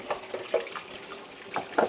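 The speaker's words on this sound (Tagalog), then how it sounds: "Oh, lamig ng tubig." Cold water runs from a kitchen tap, a steady close stream with irregular splashy bursts as something is rinsed under it.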